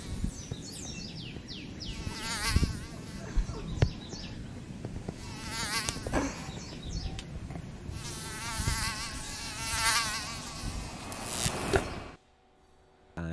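Flying insects buzz in a Southern garden, with whining, wavering drones that repeatedly swell and pass close by, fairly loud and with no one talking, before cutting off abruptly at the end.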